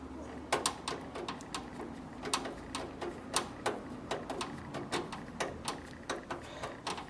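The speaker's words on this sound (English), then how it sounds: "And now for the actual unscrewing of the video card." Screws being undone on a GTX570 video card, a series of sharp, close clicks and ticks at an irregular, fairly quick pace over a low background hum.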